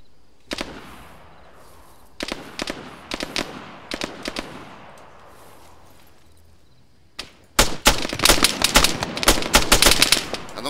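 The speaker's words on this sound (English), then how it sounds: "They're firing at me." Gunfire in the Arma 3 military shooter, with sparse single shots and short bursts early on. A denser, louder volley of rapid automatic fire follows near the end.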